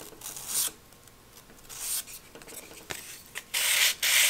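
Sandpaper rasps across a balsa glider wing in several separate bursts of hissing rubbing, close up, with quiet pauses between strokes.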